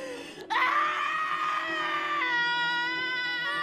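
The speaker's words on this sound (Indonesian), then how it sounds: "Lucy menjerit histeris setelah mengetahui pelanggannya bunuh diri" A woman screams hysterically in a film scene after finding that a client has killed himself beside her; a sudden loud, sustained high-pitched wail bursts in and holds for several seconds, close and anguished.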